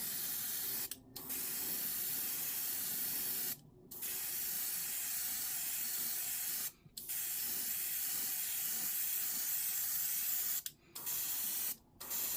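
Steady airbrush hiss from a Gaahleri Mobius-SP siphon-feed airbrush spraying paint, running continuously for long stretches and broken by a few brief pauses where the trigger is released.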